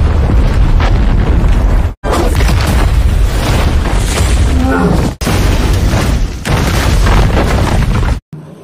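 A bomb detonates inside a building in the action film Hunt, producing loud, continuous booming roars with brief gaps of near silence between heavy blasts and crashing debris.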